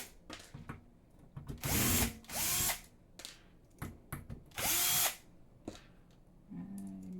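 A power drill backs screws out of the frame of a Qidi Q1 Pro 3D printer, giving three short whirring bursts with rising-then-falling pitch, separated by quiet clicks and handling, ending with a lower brief spin.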